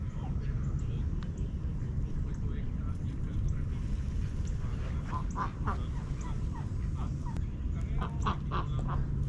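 Ducks, seemingly adults with young, quack and honk intermittently outdoors near water. The calls are scattered and fairly faint over steady background noise.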